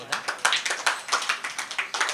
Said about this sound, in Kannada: 3 ಚಪ್ಪಾಳೆ ಹಾಕ್ಬೋದಾ